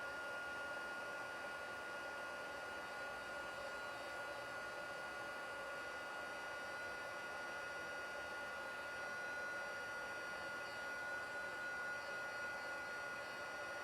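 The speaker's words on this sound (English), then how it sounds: "excuse me while I just use the heat tool" A craft heat tool blowing hot air, a steady whirring, whining blower hum that holds constant for the whole stretch, close and alone with no talk.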